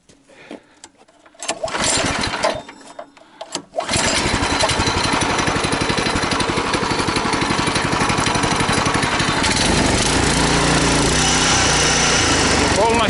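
A tricycle's motorcycle-type engine starts after a few rough attempts, then runs loud and near with the throttle held fully open, a continuous buzzing roar on an off-road ride.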